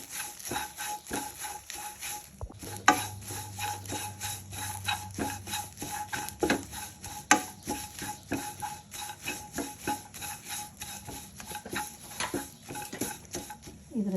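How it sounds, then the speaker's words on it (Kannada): Curry leaves dropped into a hot pan while making a drumstick-leaf (nuggesoppu) chutney powder, giving a steady crackling, rustling sizzle with scraping and stirring clatter throughout, close and moderately loud, with no voices. "ಈಗ ಕರಿಬೇವನ್ನು ಹಾಕ್ಕೊಳ್ತಾ ಇದ್ದೀನಿ"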